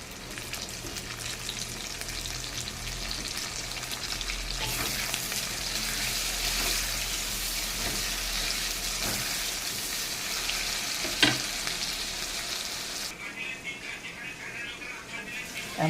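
Chopped tomato sizzles and fries steadily in a hot pan, a continuous close frying hiss with occasional stirring scrapes and a faint voice in the background.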